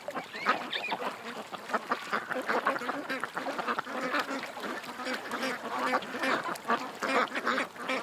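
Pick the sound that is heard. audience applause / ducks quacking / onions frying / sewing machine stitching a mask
ducks quacking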